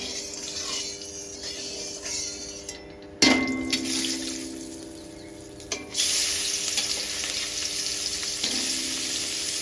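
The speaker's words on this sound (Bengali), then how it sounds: "কড়াই গরম হয়ে গেছে, আমি তেল দেব। সর্ষের তেল দিয়ে রান্নাটা করবে তোমরা" Mustard oil heats in a hot wok, giving a steady crackling sizzle that swells into a louder hiss after a few sharp knocks of utensils against the metal.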